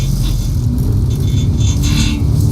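A Mercedes-AMG car drives on a wet Michelin test track, and its engine gives a steady, loud, close rumble with no break.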